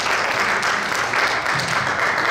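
A church congregation applauds during a sermon, with steady continuous clapping from many people that stays at an even level throughout.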